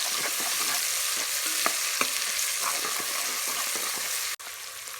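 Two spoons of ginger garlic paste are stirred into hot oil in a frying pan, a dense close sizzle with light scraping strokes that cuts off abruptly near the end.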